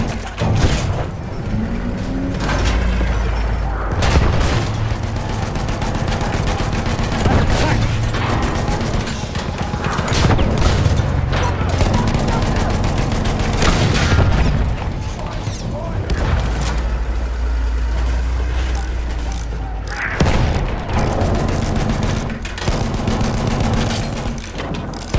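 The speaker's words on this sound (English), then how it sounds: "Machine gun, sighted!" Machine gun fire and explosions in the World War I shooter Battlefield 1, with sustained loud bursts of gunfire and periodic heavy booms over a battle din, mixed with voices and game sounds.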